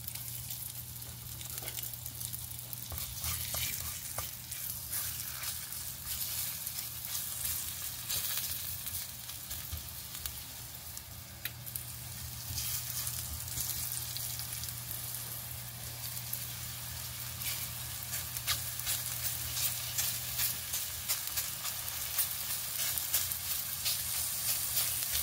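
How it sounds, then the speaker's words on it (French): Steady, crackling sizzle of floured chicken breasts frying in a hot pan, continuous and close, with faint scraping now and then. "on vient déposer nos poitrines de poulet dans la poêle"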